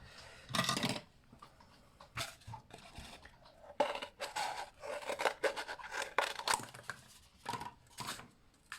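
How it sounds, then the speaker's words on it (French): Scissors snip through a cardboard paper towel roll in separate crisp cuts, some in quick bursts, with short quiet pauses between them, close by. "Je vais prendre des ciseaux"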